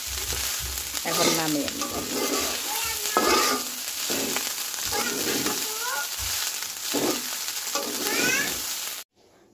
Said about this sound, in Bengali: ভাত ভাজা হয়ে গেছে, 3-4 মিনিট এভাবে ভুনা করলে ভাত ভুনা হয়ে যাবে বা ভাজা